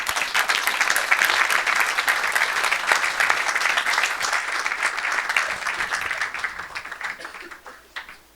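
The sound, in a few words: congregation cheering and applauding in church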